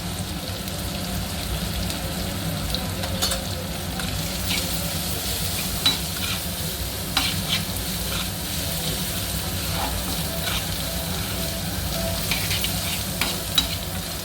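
Bitter gourd (boda kakarakaya) curry with a pinch of turmeric frying in a pan, giving a steady close sizzle with the occasional scrape of stirring, and no voices.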